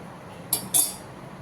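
A metal spoon clinks twice against a vessel, quick bright taps about a quarter second apart, while urad dal flour is mixed with hot ghee.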